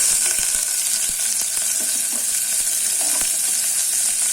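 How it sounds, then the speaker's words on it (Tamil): Sliced large onion sautéing in hot oil in a pan with curry leaves, a steady close sizzle with scattered small pops and stirring scrapes. "இந்த வெங்காயம் கொஞ்சம் வதங்கட்டும்"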